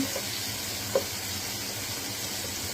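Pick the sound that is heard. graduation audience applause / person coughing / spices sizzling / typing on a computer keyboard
spices sizzling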